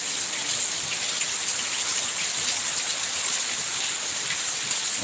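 Heavy unseasonal rain pours down outdoors, a dense, steady roar of drops drumming on surfaces, loud and unbroken with no voices.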